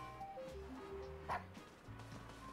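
A little dog yips and barks in the Monopoly Plus video game, with a short playful bark over a game jingle of stepped musical tones, fairly quiet.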